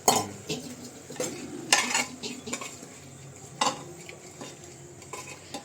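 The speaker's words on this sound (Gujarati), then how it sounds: "હવે આ મગની દાળ નાખી દો." Moong dal being tipped into a pot for a roasted wheat daliya dish, giving scattered clattering spoon and pot knocks with brief rattling bursts over quiet background.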